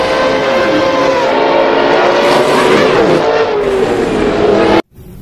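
A toy race car gives off a loud, sustained engine roar that swells and shifts in pitch before cutting off abruptly near the end.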